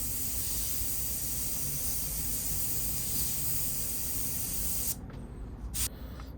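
An airbrush sprays paint during a portrait painting session, a steady close hiss that cuts off near the end and leaves a couple of short bursts.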